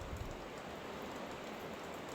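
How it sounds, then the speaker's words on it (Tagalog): Steady, dense hiss of heavy rain pouring down, constant and fairly close, with no voices or other sounds breaking through. "Ang lakas ng ulan, mga palangga."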